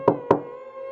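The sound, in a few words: slow knocking on a door, story sound effect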